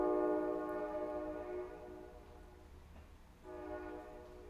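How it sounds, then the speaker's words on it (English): A train horn blares in a long, steady tone, fades briefly, then sounds again, with low rumbling from the passing train beneath it. "Damn, that train loud as hell."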